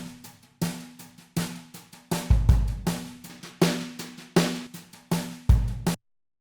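A drum pattern played through an extreme matching EQ curve comes out harsh and heavily filtered, with a steady run of punchy hits and a few deep, booming low thumps before it cuts off abruptly.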